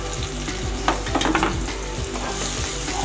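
Spice paste frying with onions in a hot pan while cooking fish, a steady loud sizzle with scraping stir strokes close by and no talk.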